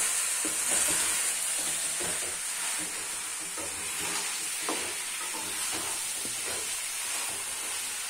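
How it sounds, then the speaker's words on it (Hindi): Cabbage being stir-fried on high heat, a steady hissing sizzle under repeated scraping and tossing strokes in the pan, close and even throughout with no talking. "ये जो बंद गोभी होती है ना इसे तेज आंच पे भूना जाता है"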